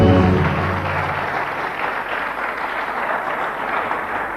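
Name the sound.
audience applause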